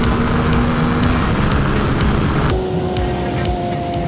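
A beginner sportbike, either a Yamaha R7 or a Kawasaki Ninja ZX4-RR, drones loud and close under heavy wind rush. Its engine note shifts abruptly midway as it downshifts, then carries on at a lower pitch.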